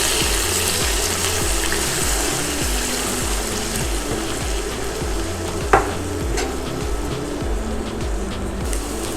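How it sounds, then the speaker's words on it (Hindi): Ground onion paste made from two onions fries in a pan for a Mughlai nargisi kofta, giving a continuous close sizzle and spluttering with a low rhythmic hum beneath and one sharp clink midway, and no voices. "अब इसमें हम प्याज का पेस्ट डालेंगे। ये 2 प्याज को मैंने पीस लिया है, इसको फ्राई करेंगे।"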